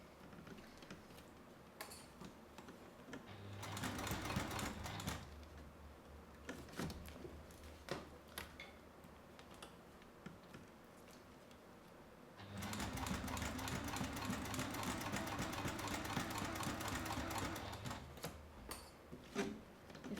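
Bursts of stitching from a sewing machine working on a Denver Double Zip Bag, two long runs of rapid mechanical whirring separated by quieter pauses with small clicks and handling sounds.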